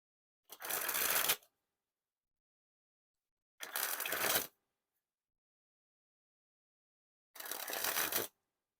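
Golden Sunrise Diner playing cards by Art of Play sprung from hand to hand in three separate bursts, each a loud, rapid fluttering riffle of cards lasting about a second, with silence between.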